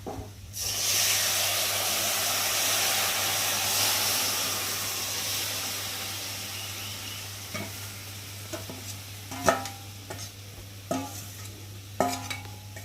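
Broth poured into a hot pan of browned onions for a jute-leaf curry, setting off a loud, steady sizzle and hiss of steam that gradually settles, followed by a few clear stirring and scraping knocks near the end.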